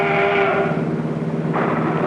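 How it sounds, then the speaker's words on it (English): A 1940s train approaching a rural farm-country crossing gives a steady, loud rumble with a sustained horn-like tone at the start and rolling mechanical noise throughout. "The train is coming."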